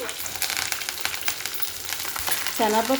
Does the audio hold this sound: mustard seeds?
yes